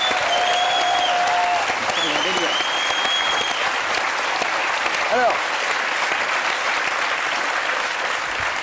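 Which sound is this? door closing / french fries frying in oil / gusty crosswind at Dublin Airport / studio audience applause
studio audience applause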